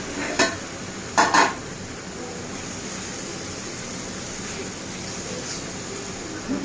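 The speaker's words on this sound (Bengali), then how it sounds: "এবার এটাকে ভালো করে নেড়ে নেবো" Spice masala being stirred in hot oil in a pan shows up as a steady low sizzle, with a few sharp spatula scrapes and clinks near the start and fainter ones later.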